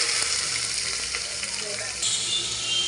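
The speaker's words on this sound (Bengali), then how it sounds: "পেঁয়াজটা একটু লাল লাল পাড়া করে নিই, ভাজা ভাজা করে নিই।" Onion frying in hot oil inside a pressure cooker gives a loud, steady hiss of sizzling, with a few faint stirring scrapes and the crackle briefly intensifying partway through.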